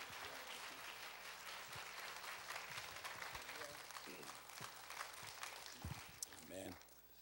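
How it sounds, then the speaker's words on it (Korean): Applause from a church congregation as a missionary comes forward during a Korean worship service, steady dense clapping that fills the room and carries on throughout. "우리 김용희 선교사님 나오실 때 박수로 하나님께 영광 돌리시고 큰 은혜 받으시길 바랍니다."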